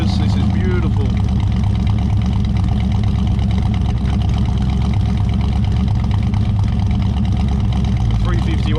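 A Ford 351 Windsor V8 with a four-barrel carburetor runs steadily at a morning car meet, its loud, continuous low rumble filling the scene with crowd noise and voices around it.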